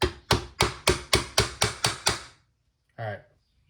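Hammer tapping a steering column part on a 1966 Mustang Fastback, eight sharp metallic strikes in a steady rhythm, close and ringing, followed by a brief voice after a pause.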